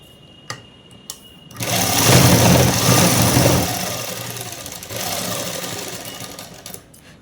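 A sewing machine stitches the folded hem of a shirt, a couple of faint clicks followed by a close, loud motor whir that runs continuously for several seconds, easing briefly before continuing.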